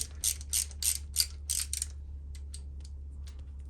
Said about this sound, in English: I got to take that bolt off. Where's my ratchet?